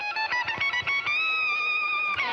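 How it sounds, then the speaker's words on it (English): Electric guitar through heavy distortion, played clumsily: a few choppy, uneven plucked notes followed by a sustained wavering bend that fades, close and fairly loud with no talk. "he didn't pick up the guitar and sound like this"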